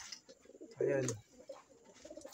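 Pigeons cooing during night feeding in a fancier's loft on a night of heavy rain from a typhoon, one clear low coo standing out near the middle amid faint background noise, with someone talking briefly around it.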